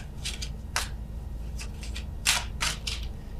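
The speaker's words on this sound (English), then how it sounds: "Again, apologies for the shuffling here." Bursts of tarot card shuffling come in short, uneven riffles, close and crisp, with no talking.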